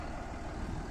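A farm tractor's engine runs steadily while its winch lifts a cow, a faint, low idling rumble that holds an even drone throughout with no voices over it.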